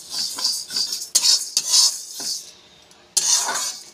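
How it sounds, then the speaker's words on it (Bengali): Moong dal dry-roasting in a pan, stirred with a spoon in bursts of dry rattling scrapes and clinks, loud and close, pausing briefly before resuming. "সুগন্ধ ওঠা অবধি নাড়াচাড়া করে নেব ডালটা"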